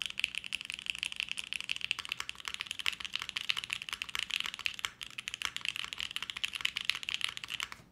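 Steady, fast typing on a top-mount mechanical keyboard, heard as a dense, even stream of close, crisp keystrokes with no pauses and no voices.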